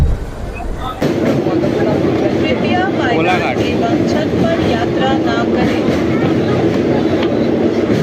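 A passenger train runs from Panskura to Digha, its loud, continuous rumble and rattle starting abruptly and holding steady from inside the carriage, with passengers' voices chattering faintly over it.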